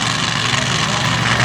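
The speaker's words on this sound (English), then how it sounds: "We hear the engine still running." A race car engine runs on in the woods during an open class racing event, a steady, dense roaring drone that holds at an even level throughout the short stretch.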